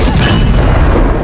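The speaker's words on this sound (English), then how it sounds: "Sullivan fires the cannon and hits the replacement ship." A cannon fires in a disaster film set in a world submerged by water, producing a single heavy, loud boom that fills the short moment and then rumbles.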